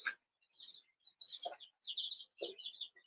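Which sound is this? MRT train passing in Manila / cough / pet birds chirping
pet birds chirping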